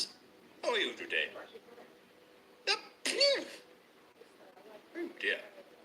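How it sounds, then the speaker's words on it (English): A cartoon character's sneezes come in a few bursts, each with a wind-up and a loud release, close and clear over near silence between them. "That was a nasty sneeze."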